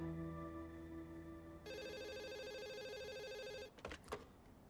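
A telephone rings once in a sustained electronic trill lasting about two seconds, followed by a couple of brief clicks, with no one speaking.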